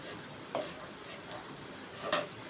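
Raw banana slices fry in a little oil on a flat tawa pan, giving a faint, soft sizzle with a few light clicks of turning.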